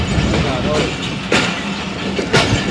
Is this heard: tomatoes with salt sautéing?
no